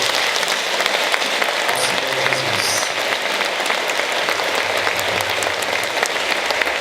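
A church congregation claps hard and loudly, a dense and sustained round of applause that fills the whole stretch without easing off.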